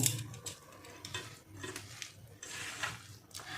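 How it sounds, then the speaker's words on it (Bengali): Mashed potato being mixed with fried onion in a bowl, giving soft irregular squelching and scraping strokes in bursts, fairly quiet with no talk. "এই যে ভেজে রাখা পেঁয়াজটা দিয়ে দেব। দিয়ে এবার মেখে নেব।"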